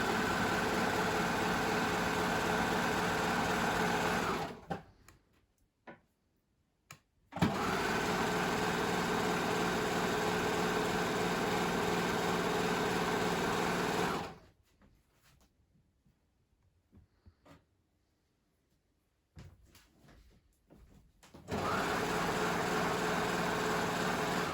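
Sewing machine stitching trouser fabric for wide trousers, running in three long, steady whirring bursts separated by quiet pauses, close and fairly loud.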